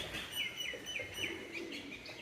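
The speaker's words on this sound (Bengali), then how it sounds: "পাখিগুলো ডাকাডাকি করতেছে এখানে কোথাও আছে" Birds chirp in quick, repeated high tweets near a nest at a pigeon farm, moderately close but fairly soft, with no talking over them.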